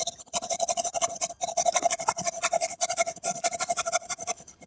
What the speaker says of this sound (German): Säge raus.